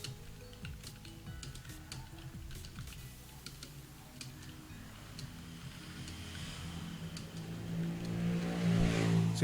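Computer keyboard typing with scattered key clicks at close range, running steadily under a low background hum that swells near the end; no one talks.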